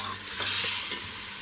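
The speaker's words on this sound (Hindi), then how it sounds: "और अब हम अच्छी तरीके से मसाले को अच्छी तरीके से भून लेंगे 3 से 4 मिनट" Masala with sliced green chillies frying in a pan for an aloo anday breakfast, giving a steady broadband sizzle with a brief louder swell of stirring near the middle, close and alone without speech.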